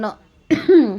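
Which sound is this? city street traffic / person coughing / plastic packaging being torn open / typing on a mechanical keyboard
person coughing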